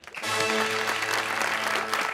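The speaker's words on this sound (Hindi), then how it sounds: "तालियां" Studio audience on a Pakistani talk show bursts into loud, sustained applause, a dense wash of clapping that rises quickly and holds steady, with a voice briefly heard beneath it.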